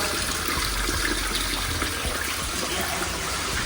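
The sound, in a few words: water draining out after water main leak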